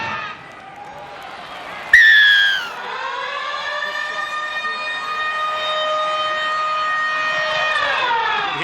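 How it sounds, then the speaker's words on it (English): A long wailing stadium siren marks the end of the first 40 minutes of an NRL rugby league match, starting abruptly, dipping in pitch, then holding a steady sustained tone over faint crowd noise in a large open space. "the siren is sounded in the background, so that's the end of the first 40"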